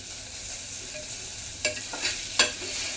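A spoon stirs vegetable soup with salt, cumin and pepper in a pan, giving a steady soft sizzle broken by a few sharp scraping clinks near the end.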